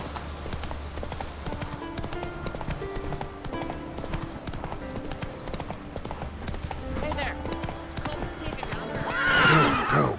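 In The Witcher 3, a horse's hooves clip-clop steadily for several seconds, close and continuous, then a loud horse neigh rises near the end.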